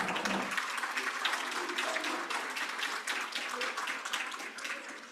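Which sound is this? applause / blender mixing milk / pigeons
applause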